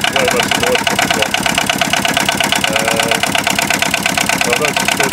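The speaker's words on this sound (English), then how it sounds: "As you can see, the engine vibrates quite a lot, where most of the noise comes from." A diesel engine in an Aixam Mega Multitruck idles with the bonnet open, a loud, close, rapid, steady knocking chug with strong vibration running continuously, while a person talks over it.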